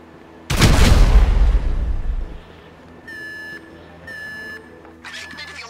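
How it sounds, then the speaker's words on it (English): An explosive charge detonates in Grand Theft Auto V with one loud, close blast that rumbles for about two seconds. Electronic beeping tones follow, likely an alarm. "An explosion will tend to do that."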